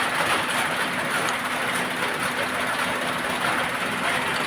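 A Maruti Wagon R K-series engine with a misfire fault idles with a sensor socket unplugged, producing a steady, close rumble with an uneven vibrating shudder and no revving.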